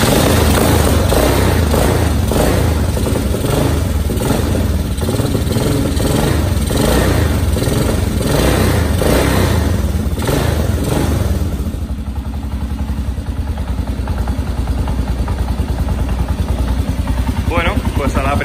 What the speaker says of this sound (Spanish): y como veis, una vez arrancada, mantiene el ralentí perfectamente. Ya veis el escape, como tiene un sonido característico.